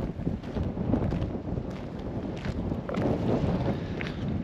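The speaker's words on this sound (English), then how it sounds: "It is cold because it's very windy over here." Strong wind gusting across an open lakeshore on a cold day, a steady loud rumbling roar buffeting the microphone throughout with no talk.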